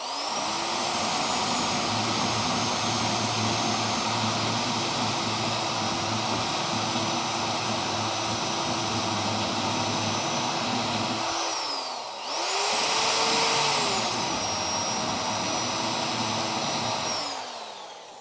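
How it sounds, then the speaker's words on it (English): A high-pitched power tool, likely a grinder or spot-weld cutter, works on the steel body of a Charger restoration, whining steadily and loudly for about eleven seconds, pausing briefly, then spinning up again. "See if we can grind that spot weld out."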